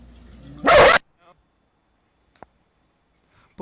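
A loud dog bark bursts out once near the start, close and sharp, followed by near silence with a couple of faint short sounds.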